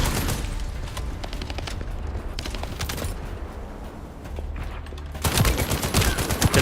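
Nonstop rapid fire from the player's weapon in The First Descendant, sustained bursts of dense, rattling shots throughout, getting louder and busier toward the end.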